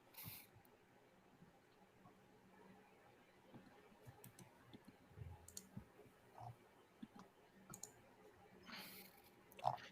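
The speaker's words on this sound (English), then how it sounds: "I'm probably clicking too many times here" Quiet computer mouse clicks come in scattered single and double taps through a faint background hum, with no talk.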